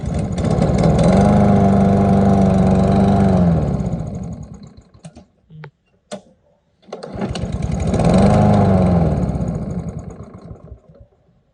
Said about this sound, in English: it's the bad gas that's already in the mower that's causing it to start up and stall right away